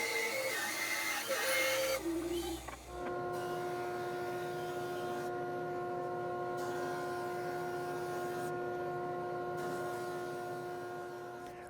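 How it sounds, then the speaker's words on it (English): A drum sander runs steadily on a wooden slice being resawn and sanded for a vintage shotgun crate repair, giving a loud, continuous machine drone with a sustained hum that fades slightly toward the end, with no talking. "Right off the drum sander, after a couple passes"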